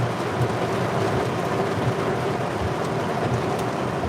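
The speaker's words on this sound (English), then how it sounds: "Lots of rain though. Lots of much needed rain." Heavy rain pours steadily during a strong thunderstorm in drought-stricken Pennsylvania, a dense, continuous close wash of water with a low rumbling undertone throughout and no voices.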